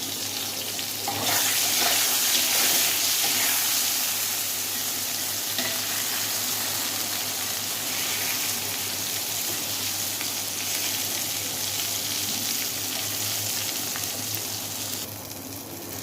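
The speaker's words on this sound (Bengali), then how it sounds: "বেগুনগুলোকে লাল লাল করে ভেজে নেব" Eggplant pieces frying in hot oil with a little turmeric and salt, a steady close sizzle and crackle running the whole time with occasional stirring scrapes, no talking.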